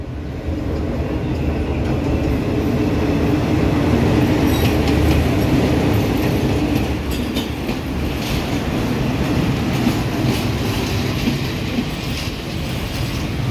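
A train rumbles loudly and steadily nearby at Ayutthaya railway station in Thailand, with a continuous roar and faint metallic clatter from the wheels throughout.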